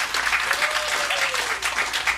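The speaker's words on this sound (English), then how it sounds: "give a round of applause to our leaders here" Applause for school leaders at a school board meeting, a short burst of dense clapping from a room of people, steady and fairly loud, with a voice faintly underneath.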